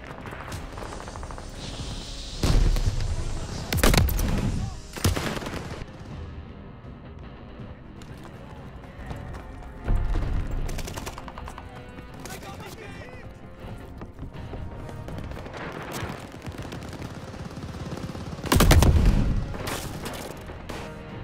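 A Call of Duty: Vanguard firefight crackles with bursts of heavy gunfire and booming shots, some close and loud, others scattered and distant, over a steady clatter of battle noise.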